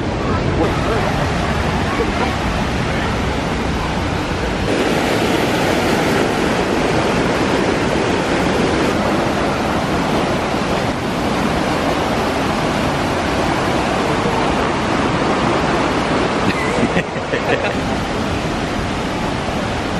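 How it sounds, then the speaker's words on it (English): A waterfall pours down steadily as a loud, continuous broadband roar that fills the whole stretch, with faint crowd voices mixed in at times. "It's a really nice waterfall."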